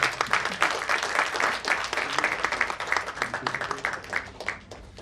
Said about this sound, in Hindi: मैं चाहता हूँ कि सब इनका तालियों से इनका अभिनंदन करें